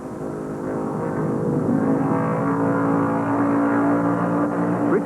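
Race cars roar through turns 3 and 4 at the 1968 Darlington Southern 500, a loud, sustained engine drone with rising and falling pitch as cars pass.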